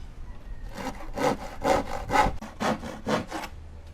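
A hand saw cuts wood for a tricycle seat frame in about eight rhythmic, rasping back-and-forth strokes, close and fairly loud, with no talking.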